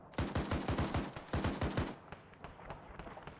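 Heavy .50 calibre machine gun fire in a video game rattles out in two rapid bursts of booming shots, then fades into scattered, softer distant gunfire.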